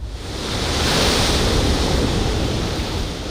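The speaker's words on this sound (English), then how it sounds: "but the sea is creeping closer, eating away the land it once overlooked" Sea waves surge near Osu Castle in Ghana, making a loud, continuous broadband wash of surf mixed with wind buffeting the microphone, and no voices are heard.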